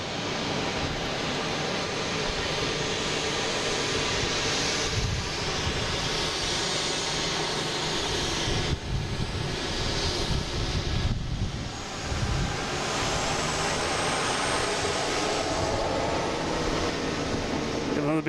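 A Delta jet airliner departing Boston Logan for Raleigh-Durham gives off a continuous broad engine roar, dense and unbroken, with steady low rumble throughout.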